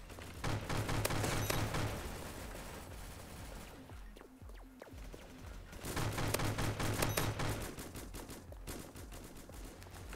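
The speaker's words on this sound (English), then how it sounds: "This is a really good three shot gun that never needs to reload" Video game gunfire from a three-round burst gun that never needs reloading: dense, loud repeated bursts of shots in two long stretches with a brief lull between, no speech.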